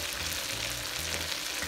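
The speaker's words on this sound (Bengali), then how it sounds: "এটাকে একটু কষিয়ে নেব।" Chili, coriander and cumin sizzle steadily in a pan while frying for hilsa fish korma, a dense, close hiss with faint stirring underneath and no talking.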